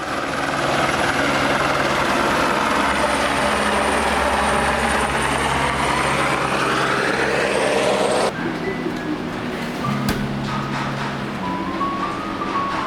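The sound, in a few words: helicopter flying over the Tibetan landscape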